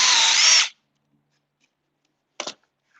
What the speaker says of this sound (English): I could do what Rebecca did and drill a pilot hole first